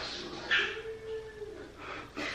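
Dogs at a family home give a short excited yip and a drawn-out whine, followed by another bark, all heard at a moderate distance indoors without speech.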